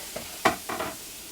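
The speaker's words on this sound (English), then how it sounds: "We're gonna saute our onions and pepper for a few minutes" Onions and pepper sautéing in butter in a pan for a beef liver dish: a soft sizzle broken by two or three short, close scrapes of stirring within a second.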